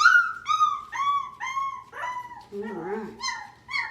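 A young puppy with a thick coat whimpers in a run of high, drawn-out whines, close and fairly loud, with a lower whimper midway and a person speaking briefly.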